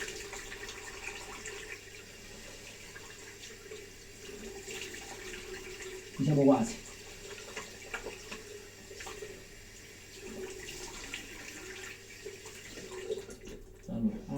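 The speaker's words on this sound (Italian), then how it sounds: "Una sciacquatina con l'acqua fresca." Tap water runs steadily into a bathroom sink as someone rinses their face with cool water after shaving, a brief louder splash midway and another near the end, with someone speaking briefly.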